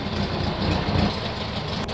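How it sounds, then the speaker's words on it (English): A 1960 Volkswagen split-window single-cab pickup's engine idles low and steady, a continuous rumbling drone with no talking over it. "It's only idling at about 650, 700."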